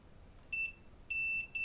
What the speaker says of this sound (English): There we go, nice beep.